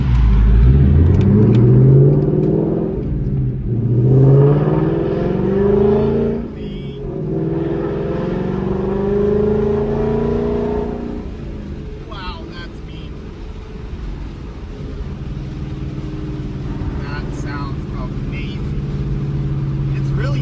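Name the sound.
Mustang GT exhaust revving while driving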